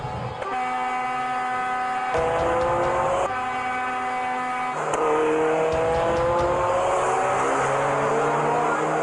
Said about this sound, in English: a modified car drifting from one lane to another at dangerously high speeds